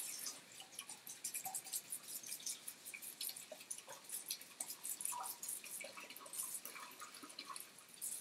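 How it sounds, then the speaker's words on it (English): Hot water running and splashing into a pan, a faint, continuous patter of drips and trickling water with no one speaking. "let's get some hot water in our pan"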